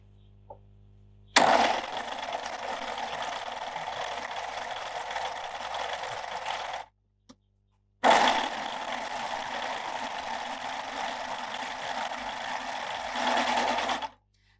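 Baby Lock Euphoria coverstitch machine hemming a t-shirt in the round: two steady, close runs of motor whirr and rapid stitching, each about five to six seconds long, separated by a short pause.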